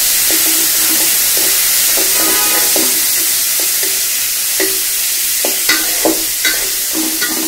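Food frying and being stirred in a pan during Bengali home cooking with coriander leaves and garlic: a steady sizzling hiss with repeated scraping, clattering strokes of a spatula, close and fairly loud, with no talking.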